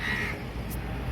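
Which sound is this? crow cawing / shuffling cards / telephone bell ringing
crow cawing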